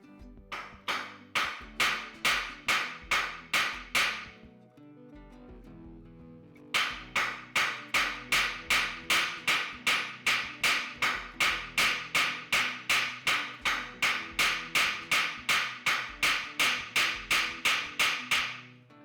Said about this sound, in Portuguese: Com essas marteladas, deixo a vareta em forma de lâmina.